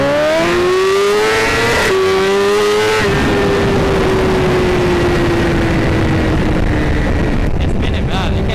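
An S1000RR motorcycle's rear tire spinning on a soaked road at a bike meet, its engine holding a loud, steady high-revving drone that dips slightly and then sustains, close to the microphone with heavy wind noise.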